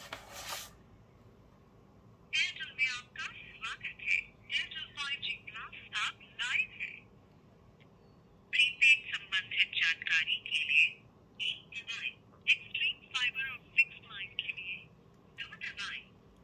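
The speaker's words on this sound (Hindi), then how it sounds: "मैं यहाँ पे कॉल करके बताता हूँ" A phone call is carried over the Hammer Pulse X smartwatch speaker, with a thin, band-limited remote voice speaking in bursts and pauses, close by against a quiet background.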